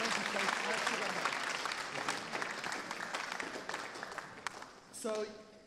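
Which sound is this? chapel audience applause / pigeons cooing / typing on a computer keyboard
chapel audience applause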